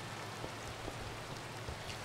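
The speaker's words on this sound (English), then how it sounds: "Is there any way I can disable the rain?" Steady rain falls in the video game Minecraft, a continuous even hiss of drops with no breaks, filling the whole stretch at moderate loudness without talk.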